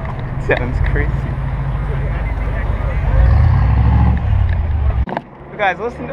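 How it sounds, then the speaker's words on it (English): A loud truck engine with a tall exhaust stack rumbles heavily and steadily at a car meet, swelling midway, then cutting off abruptly, while people talk excitedly nearby. "You guys, listen to this truck."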